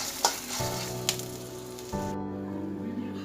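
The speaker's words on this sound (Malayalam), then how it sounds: "ഒരു സ്പൂൺ മല്ലി, 1 ടേബിൾ സ്പൂണോളം മല്ലി കേട്ടോ ഇട്ട് കൊടുത്ത് നന്നായി ഇളക്കി കൊടുക്കാം." Dried red chillies and whole coriander seeds roast and sizzle in a pan for mutton roast, with a steady crackle broken by a few sharp clinks of stirring, close and clear with no talk.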